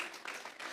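Church congregation clapping in applause, a brief dense patter of many hands at moderate distance with no talk over it.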